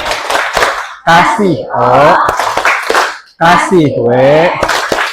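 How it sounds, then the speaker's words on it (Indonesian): Bursts of rhythmic appreciation clapping from a seventh-grade class, mixed with children's voices chanting and talking loudly throughout. "kita kasih tepuk apresiasi"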